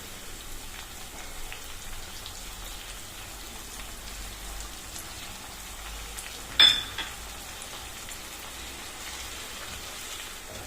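Tomato puree frying in a pan of rajma curry gives a soft, steady rain-like hiss, broken once by a sharp clink about two-thirds of the way through.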